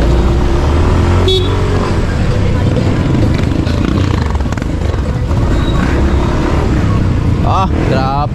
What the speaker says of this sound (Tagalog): Ah, traffic oh.